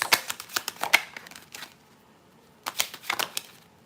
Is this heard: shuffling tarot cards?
yes